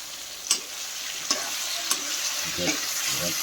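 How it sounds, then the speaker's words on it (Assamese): Steady sizzling of pork frying in a pan, with a few sharp clinks of a utensil stirring and scraping, close and fairly quiet. "ধুনীয়াকৈ ভাজি লওঁ"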